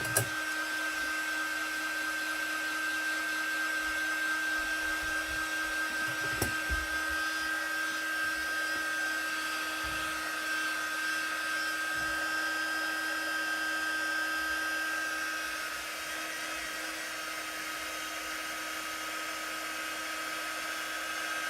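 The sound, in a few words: hair dryer drying chalk paste on stencil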